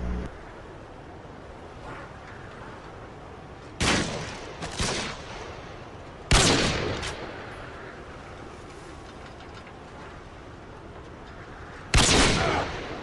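Gunshots in the survival game Rust, a few loud sharp cracks and short bursts spaced several seconds apart over a steady background hiss, with no talk.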